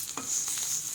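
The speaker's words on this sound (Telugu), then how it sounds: "కొంచెం నూనె వేసి చిన్న ముక్కలు పోసుకొని వేపుకోవాలి" Small pieces of bitter gourd frying in a little oil, a steady bright sizzle with brief stirring scrapes close by.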